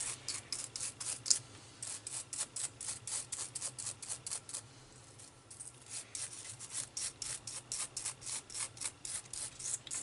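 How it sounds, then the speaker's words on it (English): Steady back-and-forth scrubbing on the plastic case of a Tandy 3100 floppy drive wet with cleaning spray, close and rhythmic, about two strokes per second with a brief pause midway. "Let's get a little more of that spray on there."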